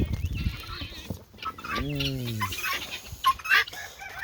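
Guinea fowl calling near a backyard chicken flock, with one drawn-out harmonic cry among scattered clucks, shuffling and background noise.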